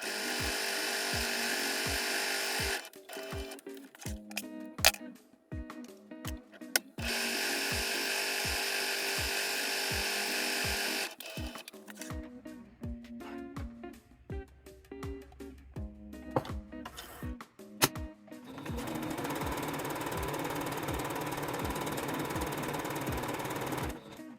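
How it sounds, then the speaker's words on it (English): A secondhand sewing machine bought on Facebook Marketplace runs decorative stitching in several long bursts, a fast mechanical whir with rhythmic needle clatter, pausing between runs, close and without talk. "let's do some like decorative stitching"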